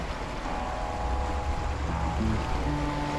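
A boat engine hums low and steady on a river with water rushing around it, the motor's drone and a faint rising whine sitting under broadband water noise, close and continuous.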